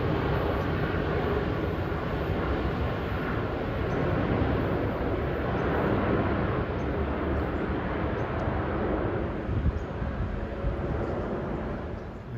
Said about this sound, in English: Airbus 380